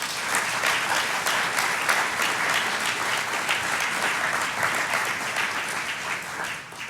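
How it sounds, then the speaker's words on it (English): An audience at a building dedication and appreciation service applauds its volunteers, a dense, steady burst of clapping from a full room that holds evenly for several seconds before tapering slightly. "can we get one more round of applause for our volunteers?"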